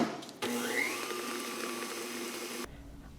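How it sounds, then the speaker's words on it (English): A stand mixer whisks steadily in a home kitchen, a loud continuous motor whir with a bright high whine that starts abruptly, holds for a few seconds, then cuts off, leaving quiet room tone. "Then we're gonna whisk this for about 5 minutes."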